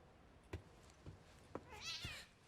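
Cat meows from The Medium video game, a few soft separate calls with quiet thuds between them, then a longer wavering meow near the end.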